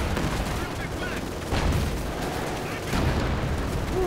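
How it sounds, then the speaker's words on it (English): An ISU-152 bombardment in Company of Heroes 2 on an icy map, with dense crackling gunfire and booming artillery blasts in a continuous noisy battle din, two louder impacts standing out. "ISU 152 uses its high range to basically just try and bombard it"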